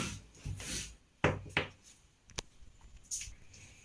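Scissors cutting uniform frock fabric, heard as a few short, close crisp snips and rustling slides of blades through cloth, separated by quiet pauses.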